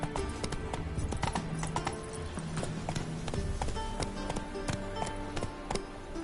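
Hooves of the horse Roach gallop in The Witcher Wild Hunt game, a rapid, steady clip-clop of sharp hoof strikes running continuously and close by over low game music.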